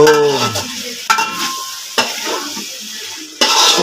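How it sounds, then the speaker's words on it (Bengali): Biryani simmering in a cooking pot over low heat is stirred, with three distinct scraping strokes of a spoon against the pot and a quiet sizzle between them. "এখন আমরা একটু নাড়া দিয়ে দিচ্ছি"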